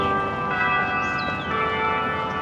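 A church bell rings with a steady, sustained metallic tone amid outdoor ambience in Balboa Park, San Diego, heard from a distance with no talking.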